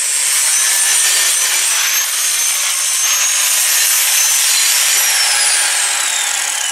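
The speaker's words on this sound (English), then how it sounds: "We're going to grind a little bit, then we'll go ahead and polish it." A welded tomahawk head is ground down with a battery-powered tool, giving a steady, loud, continuous abrasive hiss and scrape that runs without a break for the whole stretch.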